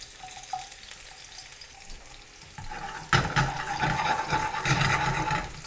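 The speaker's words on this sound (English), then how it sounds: "I'm going to add the garlic and then reduce the heat" Garlic cloves drop into hot oil over medium heat and sizzle, faint at first, then louder and steadier as the frying takes hold.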